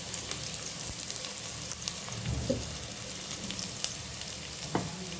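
Dried chillies, onion and chopped garlic frying in hot oil for a tempering, a dense close sizzle with occasional stirring clicks and scrapes, no talking.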